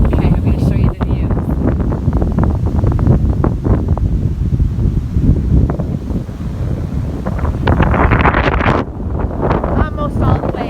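Strong gusty wind roars across a microphone at Twin Lakes on the Interlaken Trail in Colorado as a storm moves in, loud and continuous throughout, with a voice speaking briefly over it.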